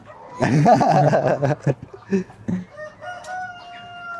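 A rooster of the native Darag breed crows loudly and close by on a small certified-organic urban farm, one long harmonic call followed by softer clucking, with no talk over it.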